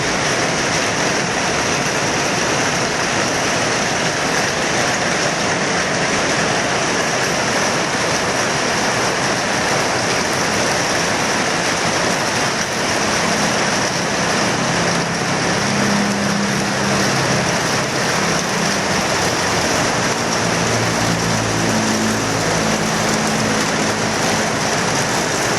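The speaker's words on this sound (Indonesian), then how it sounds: "Hujan lebat di Jalan Pangeran Antasari." Heavy rain pours onto Jalan Pangeran Antasari in Samarinda, with water running into a house: a loud, unbroken roaring hiss throughout, joined by a faint low engine-like hum in the later seconds, with no talking.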